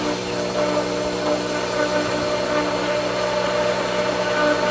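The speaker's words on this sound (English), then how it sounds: "It's still in vacuum mode. Turn the pump on." A swimming pool pump set to vacuum mode runs steadily after being switched on, giving a continuous mechanical hum and whir with a constant tonal drone and no talk.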